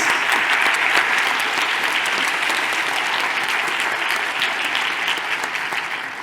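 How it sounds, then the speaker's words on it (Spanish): Sustained, dense applause fills a large hall at a business forum in Aragón, many hands clapping steadily and loudly for the whole stretch, tapering only slightly near the end with no voices over it. "Creo que le encantará o le estará encantando oír estos aplausos"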